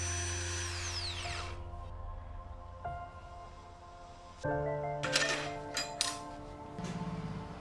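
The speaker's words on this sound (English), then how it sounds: "Drill the mark using drill bit 8mm." A drill motor with an 8 mm bit whines and winds down while drilling square metal tubing, followed by metallic clanks and rattling as the metal is worked close by.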